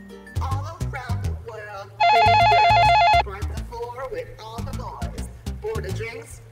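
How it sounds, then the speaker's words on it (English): A telephone rings for a prank call, a bright electronic trill lasting about a second, sounding between bursts of people talking and other busy noises in a comedy sketch. "That same night, they also gave me a prank phone call."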